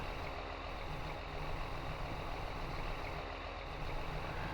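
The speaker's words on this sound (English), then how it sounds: "as far as the exhaust sounds go, this is probably one of the better ones I've heard recorded." A tractor engine in Farming Simulator 19 drones steadily at the exhaust, a dense, continuous low rumble with no talk over it.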